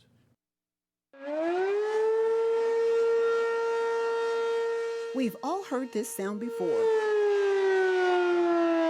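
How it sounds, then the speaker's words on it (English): A loud tornado warning siren being tested in Hennepin County holds a steady wailing tone for several seconds, with a voice briefly speaking over it before the tone continues. "Hennepin County officials are testing a new high-tech warning siren."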